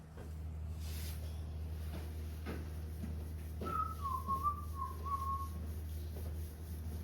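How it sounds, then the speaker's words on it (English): A man whistles a short wavering tune while working on a wharf, faint and somewhat distant over a low steady hum with occasional knocks. "Oh, he's whistling."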